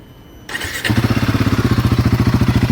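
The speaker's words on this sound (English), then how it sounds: "So now I'll let you guys hear the exhaust note of this bike." A Royal Enfield Guerilla 450 motorcycle starts with a brief crank, then settles into a loud, close, steady thumping idle with an even pulsing exhaust beat.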